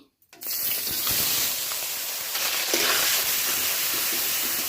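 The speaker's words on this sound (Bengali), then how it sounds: "আলু ভাজার তেলে আমি পনিরটা ভেজে নিচ্ছি।" Paneer fries in oil left from frying potatoes, a loud, dense hissing sizzle that starts abruptly and continues without break, close up.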